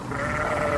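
A toy goat gives a single sustained bleat, close and steady, with a nasal tone and nothing else around it.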